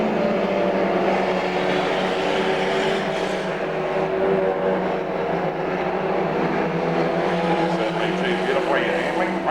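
Race cars power around the Archerfield Saturday night speedway in 1997, a steady dense roar of engines at a distance, with a commentator talking over it throughout.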